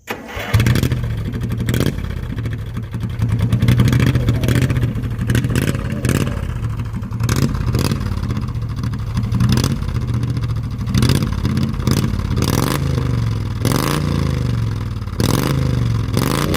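A race mower's small engine idles roughly, then fires a rapid string of sharp revs and popping bursts against a rev limiter for a two-step launch in a driveway, loud and close with a clattering, stuttering rhythm.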